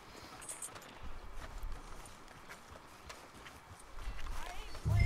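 A horse's hooves clip-clop at a walking pace on a street in Red Dead Redemption 2. The hoofbeats are soft and rhythmic under light ambience, and a voice speaks near the end.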